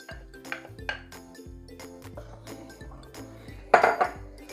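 Tomato is stirred into cricket chili in a pot with repeated metallic clinks and scrapes of a utensil against the pot, close and moderately quiet over a low steady hum, ending in a louder clattering burst.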